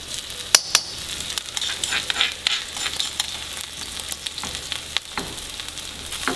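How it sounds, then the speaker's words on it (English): Chili and garlic sizzling in a frying pan for a Thai eggplant and pork stir fry: a steady crackling hiss with scattered sharp pops and spatters, close and continuous with no talking. "now we're just gonna cook the chili and garlic until the turn to smell really good"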